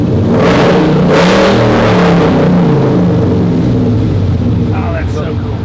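Supercharged Roush Raptor pickup truck with a Roush exhaust, fired up by remote start and idling loudly with a deep, steady engine rumble throughout, while people talk over it.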